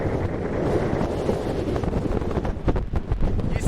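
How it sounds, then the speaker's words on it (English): Strong wind gusting over the rim of the meteor crater in the Arizona desert, a loud, steady roar of rumbling microphone buffeting that swells and surges throughout. "check out the wind up here. It is really blowing"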